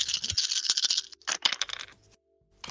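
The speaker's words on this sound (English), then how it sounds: "I love the sound of dice." Dice being rolled during a tabletop roleplaying game session: a quick clatter of plastic dice tumbling and bouncing on a hard surface, several bright rattling bursts, then a brief second roll after a short pause, close up.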